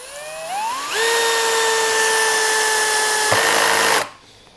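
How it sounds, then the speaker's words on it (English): A Skil PWRCore 12 hammer drill whines up and spins steadily while driving a 3-inch drywall screw, a close, loud motor tone that briefly dips near the end before stopping abruptly. "We're going to try to drive this 3-inch drywall screw."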